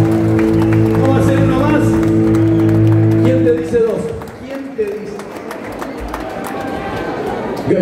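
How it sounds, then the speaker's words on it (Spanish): At the close of a song, a live concert audience at Teatro Flores in Buenos Aires breaks into applause, with clapping and crowd chatter rising as the music fades out. "Fuerte el aplauso."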